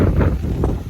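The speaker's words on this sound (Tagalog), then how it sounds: "Mahangin." Wind blowing outdoors at Nuvali, a steady low rumble buffeting the microphone for a moment with no speech.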